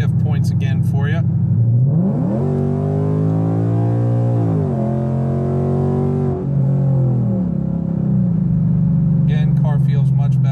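A tuned 2015 Mustang GT with an automatic transmission revs hard through its shift points, the engine note climbing and dropping at each gearchange. It sounds loud and close, with brief talk at the start and end.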